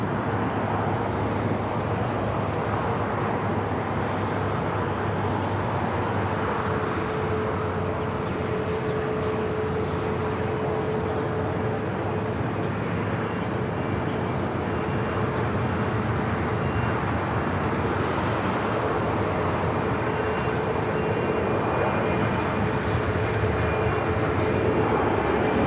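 An airplane takes off from runway 25 right at LAX, heard as a steady, distant, broad jet roar that holds through the whole stretch with little change, and no one speaks.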